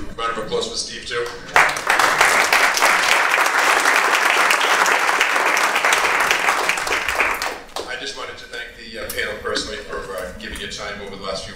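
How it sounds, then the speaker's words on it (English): Applause from an audience at an IT center talk swells into loud, dense clapping lasting about six seconds, then fades as a speaker resumes talking close to the microphone, with speech also heard briefly before it begins. "Round of applause for Steve, too."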